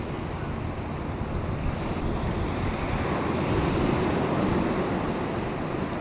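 Steady ocean surf rolls and washes continuously onto the shore, with a constant wind rumble on the microphone and no voices.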